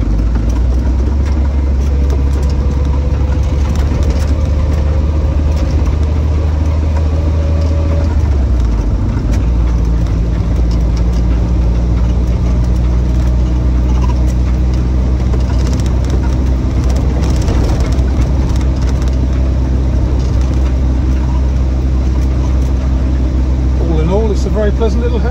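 A 1965 Triumph Herald 1200 convertible's small engine runs steadily at idle and under load, a loud, continuous low rumble with shifting tone as it changes pace, heard close throughout.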